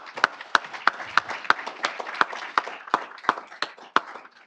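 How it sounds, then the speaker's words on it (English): Applause at a city council meeting honoring a junior dance and football group: a small, sparse clapping with distinct separate hand claps at a fairly steady rhythm, moderately near and not very loud. "Let's give them a big round of applause."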